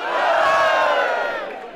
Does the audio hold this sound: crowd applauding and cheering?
yes